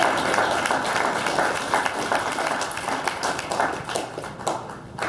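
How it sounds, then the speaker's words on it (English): An audience at a community general plan information fair claps together in a busy, uneven patter of hands that swells and dips without letting up. "Let's clap for the posters"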